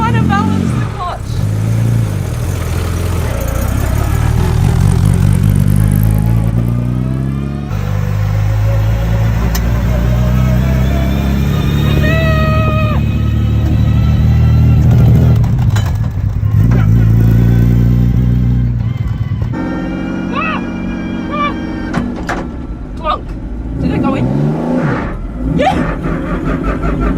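An Aston Martin DB4 GT engine while driving, a loud close cabin drone of the running engine that swells and falls with revs and gear changes, with people talking over it throughout.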